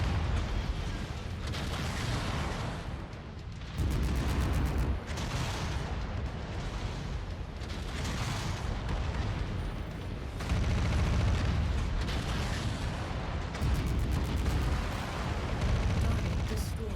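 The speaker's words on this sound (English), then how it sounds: "A Marauder that just got a ton of missiles fired into it. And is still getting a ton of missiles fired into it." Missile barrage slamming into a Marauder mech in a combat video game, with dense, continuous rumbling explosions and blasts pounding in loud overlapping waves throughout.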